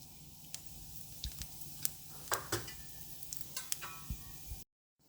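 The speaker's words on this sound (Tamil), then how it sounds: "ஒரு பேனில் கொஞ்சம் எண்ணெய் ஊற்றிருக்கேன். அதில் கொஞ்சமாக கடுகு, அடுத்து கொஞ்சம் சீரகம்" Mustard seeds and cumin in hot oil in a pan, a faint sizzle with scattered sharp pops and crackles spread irregularly across the clip, close by, ending in abrupt silence.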